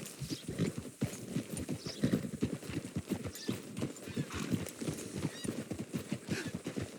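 Steady clip-clop of horse hooves close by in the video game Red Dead Redemption 2, with several high whinnies and snorts breaking through, a few faint voices underneath.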